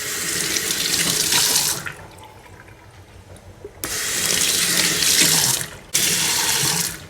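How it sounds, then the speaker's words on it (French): Water runs steadily from a kitchen tap fitted with a clip-on hand-sensor attachment, gushing loudly, stopping briefly, then starting again in bursts as a hand passes under it. "vous passez votre main et l'eau coule,"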